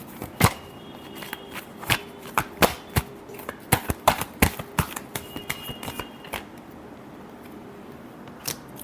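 Tarot cards are shuffled up close, giving a quick irregular run of crisp snaps and flicks with short quiet gaps between bursts.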